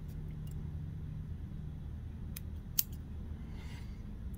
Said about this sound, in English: you can get your scissors in there and cut off any of that excess that's sticking out